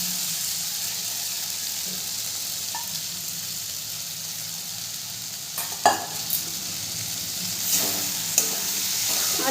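Fried potatoes being stirred into a spiced masala for ghugni, with a steady low sizzle underneath and a few louder scraping stirs near the end.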